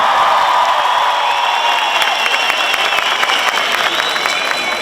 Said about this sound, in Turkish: bir kez daha alkışlar rica edebilir miyiz sizlerden